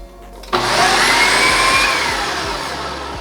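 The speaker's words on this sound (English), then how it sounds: "And now we'll give that just a quick mix in our blender." A loud blender whir starts abruptly and runs steadily, a high churning drone with faint rhythmic knocks underneath as it mixes cinnamon roll dough.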